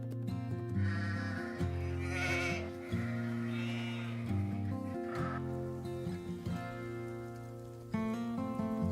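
Several sheep on a snowy mountain pasture bleat in overlapping, wavering calls, loud and near, almost continuous across the stretch.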